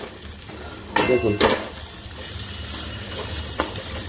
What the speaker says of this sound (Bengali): আমাদের উচ্ছে ভাজা হচ্ছে